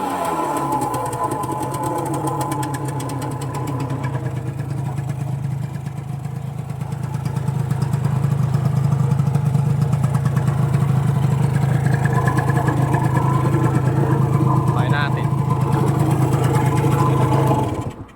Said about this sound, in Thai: รถสตาติดง่ายครับ ลงรถมาก็สตาทีเดียวติดเลย แต่เร่งๆหน่อย